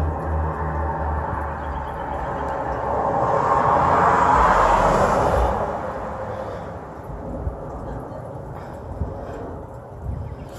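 An American Airlines Boeing 737-823, N819NN, arriving from DFW and landing in Tulsa, gives a broad jet roar that swells to a peak midway, then fades into wind-like rumble with scattered knocks.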